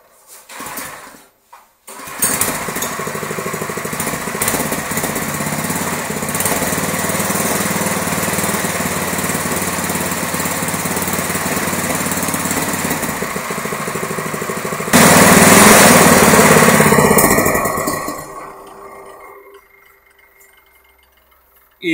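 A small engine on an off-road buggy kart frame, chain not connected, is pulled to life and runs with a loud, buzzy, rattling drone, revving harder near the end before cutting off.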